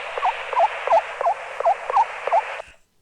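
Recorded pre-exodus assembly call of a mallard hen brooding young on the nest: about seven short, evenly spaced calls repeating in a steady rhythm over a constant hiss, ending abruptly.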